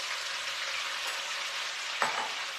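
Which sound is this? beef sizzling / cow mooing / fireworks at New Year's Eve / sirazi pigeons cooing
beef sizzling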